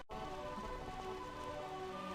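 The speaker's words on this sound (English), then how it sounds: "Place where the rain never stopped." Steady rain from Final Fantasy IX in the realm of eternal rain, a soft continuous patter under a sustained tonal game music bed, quiet and even after a brief silent start.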